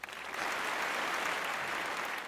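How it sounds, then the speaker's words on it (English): An audience applauding loudly after a speech, a dense, sustained wall of clapping that swells in quickly and holds steady. "When the audience began to applaud loudly"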